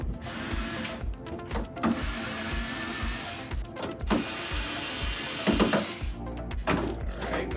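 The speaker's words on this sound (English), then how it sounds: "So first thing we're going to do is remove all the screws on the top of the cover." Power drill backing screws out of the top cover of a KiloVault HLX+ battery, heard as repeated short bursts of motor whir and ratcheting. The bursts are separated by brief pauses, fairly close and moderately loud, with no talk.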